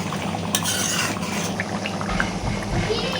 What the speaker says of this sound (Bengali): মশলাটা একটু ভাজতে হবে।